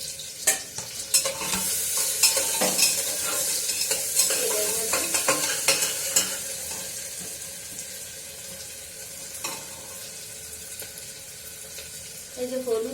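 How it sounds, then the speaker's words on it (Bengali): Ginger, garlic and green chilli frying in hot oil in a home kitchen, a bright hiss with stirring scrapes and clinks, loudest early and then settling to a softer sizzle. "তেল গরম হয়ে গেছে, ওর সাথে সাথে আদা রসুন দিয়ে দিই, আস্তে আস্তে করে মেজে ভাজা ভাজা হয়ে যাবে।"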